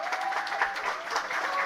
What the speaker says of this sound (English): Let's applaud to Yuliia